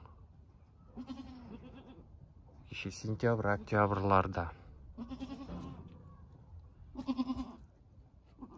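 A young goat kid born the previous summer bleats in short, wavering cries between stretches of people talking nearby, on a farm among other goats.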